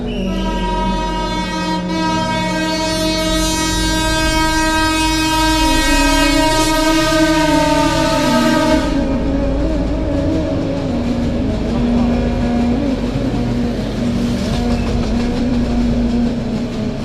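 A train passes close by, sounding a long, loud, multi-tone horn blast for about nine seconds, followed by the continuing rumble and clatter of the wagons.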